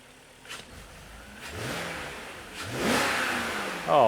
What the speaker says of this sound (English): Let's give her a little throttle, make sure everything's smooth